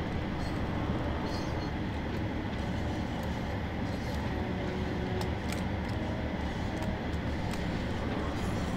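A Class 37 or Class 150 train running on the West Cornwall local line in Train Sim World, a steady broadband rumble with faint tonal whine and a few clicks, continuous and close, no talking.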